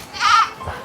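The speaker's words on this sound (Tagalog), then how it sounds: "Kambing." A single goat bleats close by, a short wavering cry rising and fading, followed by a faint low sound.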